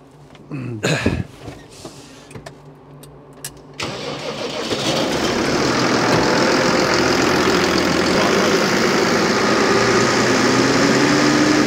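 An engine on a Landquip sprayer setup in a shed. A few clunks come first, then the engine cranks and catches, and it settles into a loud, steady running rumble that fills the enclosed space.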